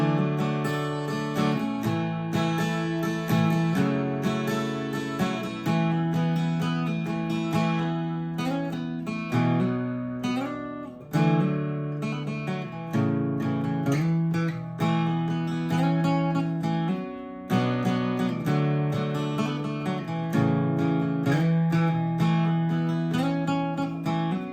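A song's solo on acoustic guitar, played close and clear as a continuous flowing melody of picked notes over ringing chords, with steady phrasing for about twenty-five seconds.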